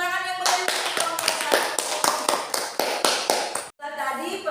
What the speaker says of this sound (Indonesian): kita beri tepuk tangan yang meriah untuk kelompok